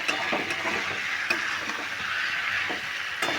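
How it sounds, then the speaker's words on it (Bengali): Pumpkin, potato and fried shrimp sautéing in a pan, a steady close sizzle with a few light clicks of a spoon stirring against the pan. "এবার কুমড়ো আলু আর চিংড়ি মাছ দিয়েও ভালো করে কষিয়ে নেব"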